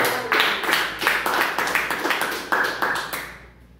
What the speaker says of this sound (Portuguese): A salva de palmas, Senhor.